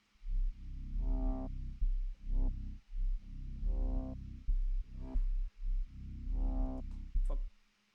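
Three synth basses stacked and played as one, for a track, sound as a deep, thick layered bass in repeated phrases of sustained notes with short gaps, loud and alone with no talking.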